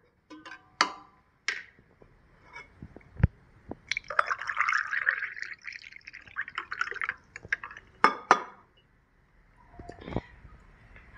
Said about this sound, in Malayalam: ഗ്ലാസ്സിലേക്ക് ആദ്യം തന്നെ നമുക്ക് രണ്ട് ഐസ് ക്യൂബ് ഇട്ട് കൊടുക്കാം